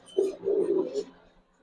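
Young male silver pigeon coos close by, a short throaty burst followed by a longer rolling coo, clear and fairly loud against a quiet room.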